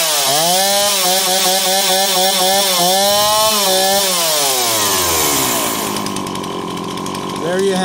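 A chainsaw engine fitted with a rebuilt Zama carburetor runs loud and close, revving up and down in rhythmic surges before settling toward a lower, steadier note near the end.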